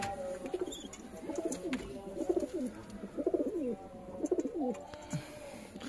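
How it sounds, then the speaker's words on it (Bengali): Pet pigeons of a good breed coo in a home loft, several soft rolling calls repeating over a faint background hum, fairly close and without any talking. "ভালো জাতের পায়রা, সুন্দর পায়রা আছে।"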